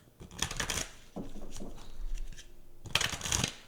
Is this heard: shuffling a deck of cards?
yes